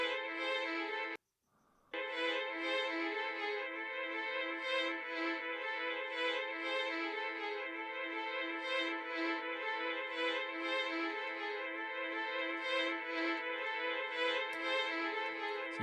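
An audio sample played in reverse, a sustained harmonic tone swelling continuously with a short dropout near the start, then steady and rich to the end.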